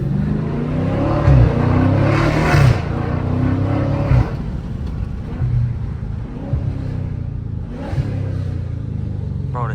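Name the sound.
Dodge Challenger Scat Pack car engine accelerating on highway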